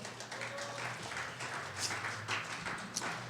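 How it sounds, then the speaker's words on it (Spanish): Congregation clapping in a church service, a dense steady wash of many hands applauding throughout, moderately distant, with faint low hum beneath. "¿Puede darle una ofrenda de palmas al Señor?"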